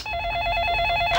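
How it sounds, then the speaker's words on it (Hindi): An electronic telephone ringtone, a steady warbling tone with evenly pulsed beats, rings loud and close through a comedy scene with no talking over it. "ये किसी घंटी बजी? ओहो, फोन।"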